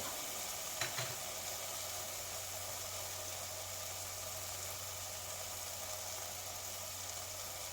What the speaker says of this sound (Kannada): ಟೊಮೊಟೊ ಎಲ್ಲ ಮೆತ್ತಗಾಗೋವರೆಗೂ ಹೀಗೆ ಫ್ರೈ ಮಾಡ್ಕೊಳ್ಬೇಕು